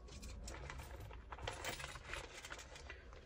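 Coins drop and jingle into a plastic bag made of high density polyethylene, a close, bright cascade of metallic clinks and rustling for a few seconds, with no talking.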